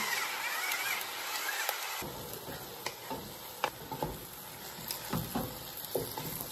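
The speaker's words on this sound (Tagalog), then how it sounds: "ground beef, brown natin muna siya" Ground beef browning with garlic in a pan for Filipino sweet spaghetti, a steady close sizzle broken by repeated scraping and stirring clicks of a utensil.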